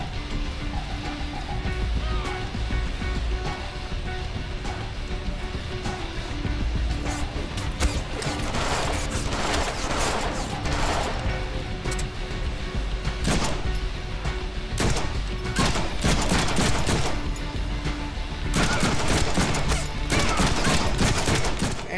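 Rapid gunfire bursts and crashing impacts from a Deadpool video game fight, dense and continuous over a steady game soundscape, loudest in clustered volleys toward the middle and end.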